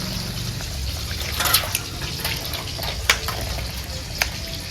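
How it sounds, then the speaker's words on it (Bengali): Water poured over freshly cut potatoes and cauliflower pieces in a bowl, a steady running splash and trickle with a few sharper clinks, close and fairly loud, no talk. "এখন আমি একটু জল দিয়ে দেবো। ধুয়ে নেবেন এখন?"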